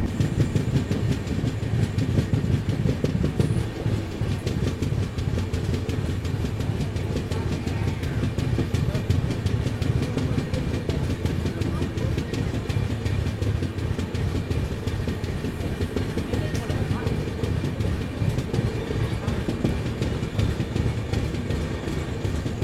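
The UBL MAS SF 20680 express from Hubballi to Chennai rumbles along steadily with a continuous roar and faint rhythmic clatter of the wagons, heard from inside the train.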